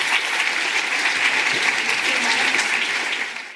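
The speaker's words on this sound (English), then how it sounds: "Another big round of applause." Warm, sustained applause from an audience at an OCD Action conference, a dense, even clapping that holds for about three seconds and then fades quickly to silence.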